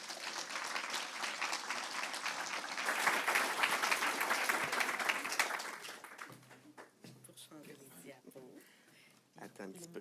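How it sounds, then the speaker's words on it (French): Audience applause at a Quebec water-infrastructure conference, a dense wash of clapping for several seconds that thins out and fades, leaving a room voice talking. "Alors, une belle main d'applaudissements pour Alexandre."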